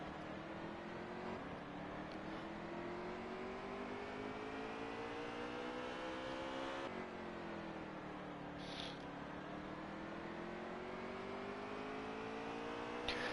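Race cars roar around Martinsville Speedway in the NASCAR Heat 3 video game: a continuous, droning engine note that rises and falls in pitch as the cars accelerate and ease off, with no talking.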